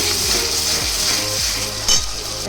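Chana masala fries loudly in a pan as kasuri methi is added, a steady close sizzle with repeated scraping strokes of a spoon stirring through it and one brief sharper clink.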